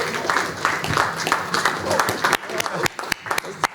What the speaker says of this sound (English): That's a cheering section.